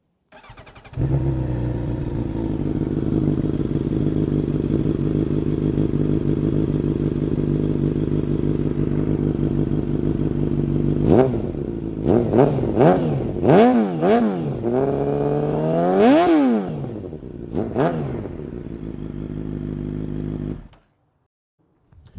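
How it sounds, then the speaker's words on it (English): A 2025 Suzuki GSX-R750 motorcycle fitted with an aftermarket exhaust idles with a steady rumble, then gets several sharp throttle blips that rise and fall in quick succession before cutting off, loud and close with no talking. "I can do a sound clip for you here real quick."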